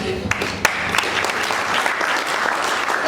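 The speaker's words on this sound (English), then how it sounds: "Please, I want you to give a very big round of applause for Apex Pay." A tech conference crowd at a DevFest event applauds a sponsor with a dense burst of clapping and a few sharper individual claps, while voices carry faintly underneath.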